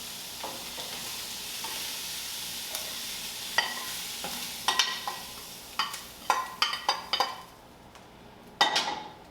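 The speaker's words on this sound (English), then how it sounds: "we're going to go ahead and add in the browned sausage" Browned sausage tipped from a utensil onto tender cooked vegetables in a pan: a steady low sizzle with a growing run of scrapes, clinks and metallic knocks, then a final loud clatter, heard close with no talking.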